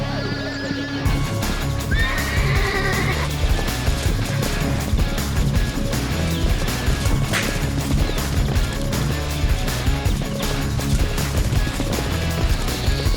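Wild brumbies being mustered by horsemen let out a loud whinny early on, set within a dense, continuous wash of sound that runs the whole way through.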